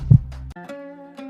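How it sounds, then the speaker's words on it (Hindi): A heartbeat sound effect in a Hindi audio story gives one deep, close thump, and then a sustained musical tone rings underneath. "जिसमें सिर्फ उनकी तेज होती धड़कनों की आवाज सुनाई आ रही थी"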